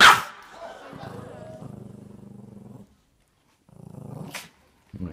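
A dog snarls and growls in long rough stretches, with a sharp bark-like burst at the start and brief yelps between, close and fairly loud; the growls pause briefly before resuming.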